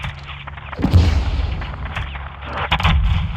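Heavy artillery fire called in as air support during combat in Call of Duty: Modern Warfare II, deep booming blasts landing close and loud, one big impact followed by more rumbling explosions and crackling gunfire.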